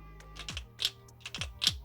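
Plastic leg joints on a McFarlane Toys DC Multiverse Speed Metal Barry Allen action figure click as they are moved, giving three or four sharp, close clicks spaced unevenly over quiet background.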